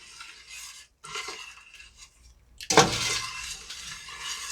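Sugar stirred into hot water with a spoon for mixed berry wine, a close scraping and clinking of the spoon against the container in uneven bursts, with a brief pause and a louder rattle near the end.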